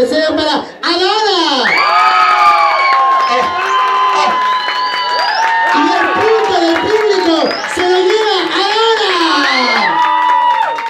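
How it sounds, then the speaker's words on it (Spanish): A pop-diva contest crowd cheers, shouts and whoops loudly for Adara, with children's screams and some clapping mixed in a dense, continuous roar under high sustained voices. "¡Fuerte las palmas y grita si desea para Adara!"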